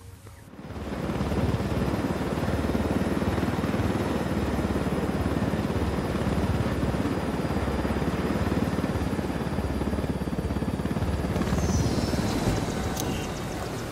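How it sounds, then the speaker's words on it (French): Helicopter flying in the video game Ghost Recon Wildlands, a steady, dense rotor and engine roar holding constant throughout, with no talking. "Voler un hélico pour aider la révolution"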